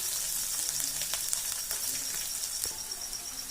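Onions sizzle and crackle steadily in hot oil in a pan for a Gujarati dudhi kofta curry, with curry leaves, garlic and ginger already in. The hiss stays close and even, with small pops and no voices.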